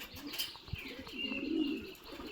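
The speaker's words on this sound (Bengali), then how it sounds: "এগুলো আমাদের কবুতর" Pet pigeons coo in a low, throaty burble, one longer rolling coo swelling in the middle, with faint chirps and a wing flutter nearby, and no talking.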